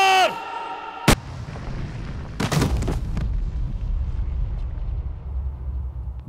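Gunfire in a Hindi-dubbed South Indian action film scene, heard as a sharp loud crack just after one second, then a cluster of heavy bangs with a rumbling tail, over a continuous low background.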